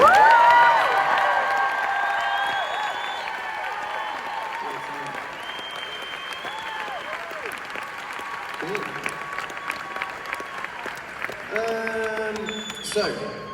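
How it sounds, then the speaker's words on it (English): Concert crowd applauding and cheering for the band during a tour show, a loud burst of clapping and whoops that gradually thins, with scattered shouts and a voice speaking over it. "Can we just have a round of applause for the band, please?"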